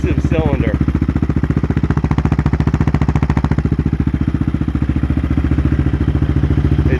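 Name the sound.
Yamaha Raptor 660R ATV engine idling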